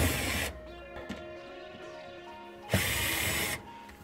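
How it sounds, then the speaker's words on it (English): A cordless drill or driver backing screws out of an RV furnace, with two loud, close whirring bursts of the tool at the start and end and quieter metallic handling and small clicks between them. "we'll just take these screws out."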